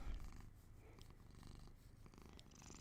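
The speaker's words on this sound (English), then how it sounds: "There's the purring." A house cat purrs softly and continuously, a low rhythmic rumble close by with no voices.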